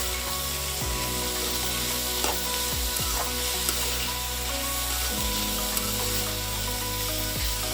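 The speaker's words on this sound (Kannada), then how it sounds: "ಒಂದು 5 ಮಿನಿಟ್ಸ್ ನೀಟಾಗಿ ಕ್ಯಾಪ್ಸಿಕಮ್ ಎಲ್ಲ ಫ್ರೈ ಆಗೋ ತನಕ ಬೇಯಿಸ್ಕೋಬೇಕಾಗತ್ತೆ." Capsicum and spring onion stir-frying in a hot pan for chicken lollipop, a steady loud sizzle running throughout with occasional scraping knocks from a stirring spoon.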